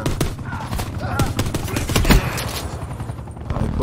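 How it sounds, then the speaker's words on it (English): Shotguns fire during a Black Ops 4 multiplayer match. Loud, close blasts come in a rapid cluster over a dense wash of battle noise, with faint in-game voices behind. "Oh, he pulled the shotguns out."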